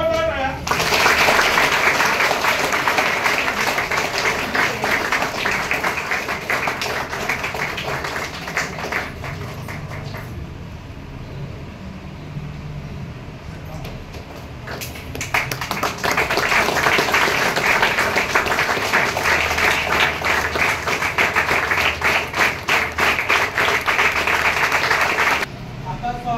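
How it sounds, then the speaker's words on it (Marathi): Audience applause at an award ceremony, loud sustained clapping that swells, dips in the middle, then rises again and carries on with steady crackling density. "एकदा जोरदार टाळ्या"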